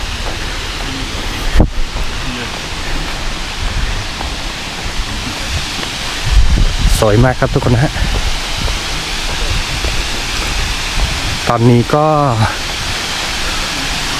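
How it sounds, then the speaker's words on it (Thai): Mon Tha Than waterfall in Chiang Mai gives off a constant broad roar of falling water, loud and steady throughout, while someone talks over it and a few brief thumps break in. "เห็นน้ำตกนะฮะทุกคนนะเห็นไหมฮะ"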